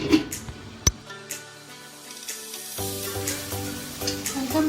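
A masala of yogurt and tomato fries in a pan for murgh channa. It gives a soft, steady sizzle with a sharp click near the start and faint clatter, and no one speaks.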